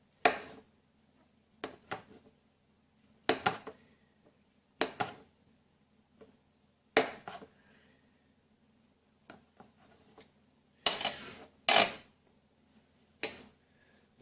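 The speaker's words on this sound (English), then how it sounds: "Got the second mushroom. And let's start cutting that one." Kitchen knife slicing through a mushroom on a cutting board, a series of short, crisp chops in separate bursts with pauses between, close and fairly quiet in an otherwise silent room.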